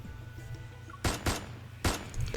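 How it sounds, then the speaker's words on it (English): Three sharp video game gunshots crack out close and loud, two in quick succession then one more, over a low droning background. "The people who fired the shots are strangled by something."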